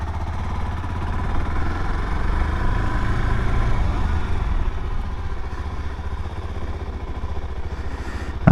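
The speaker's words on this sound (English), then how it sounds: "But yeah, here's the new bike. It's the new DRZ4SM." A new 2025 Suzuki DR-Z4SM supermoto's single-cylinder engine idles close by, a steady low thumping putter with mechanical clatter, holding an even rhythm throughout.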